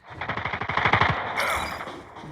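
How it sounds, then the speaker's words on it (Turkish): Rapid automatic fire from an M4 LMG light machine gun in the mobile shooter game Call of Duty Mobile, a close, loud burst of evenly spaced shots lasting about a second, then a sustained rushing tail of game sound effects. "Şimdi şu M4 LMG silahımıza geçelim."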